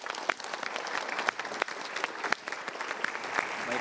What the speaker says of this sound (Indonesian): Kita berikan tepuk tangan yuk.